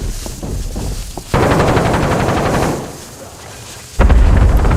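Gunfire in the Warzone video game, loud dense bursts of shots and booming blasts coming in abrupt waves with a short quieter stretch between them.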